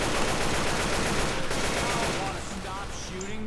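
Rapid gunfire in the zombie shooter game Left 4 Dead 2, dense bursts of shots filling the scene, loud and close, fading slightly near the end as game sounds continue.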